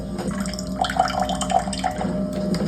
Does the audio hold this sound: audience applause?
no